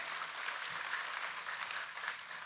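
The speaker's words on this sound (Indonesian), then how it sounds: "Kita kasih tepuk tangan yang paling meriah buat Tuhan kita" A church congregation applauding during a sermon, a soft, even, continuous patter of many hands clapping, heard at a distance with no talk over it.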